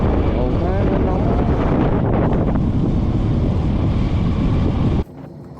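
A hot, dry Lao wind blasts noisily across the microphone during a motorbike trip in Vietnam, giving a continuous loud roaring rush that cuts off abruptly near the end.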